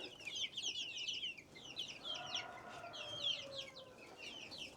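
A flock of Australorp hens and chicks keeps up continuous chirping and soft clucking, the chicks' high peeps layered over lower hen calls, moderately near and without any talking.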